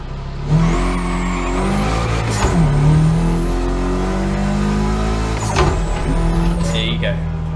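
Mitsubishi Lancer Evo 6 in the racing game The Crew Motorfest launching from a standstill to 100, engine revving up through rising gear pulls with shift breaks, heard close under someone talking.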